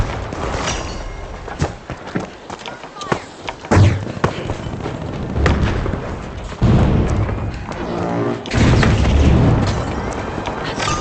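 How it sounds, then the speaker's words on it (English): Fireworks bursting in the video game The Finals, a run of loud booms and thuds with crackling tails that comes in several clustered volleys over a steady game background, with no voices. "Hold for fireworks."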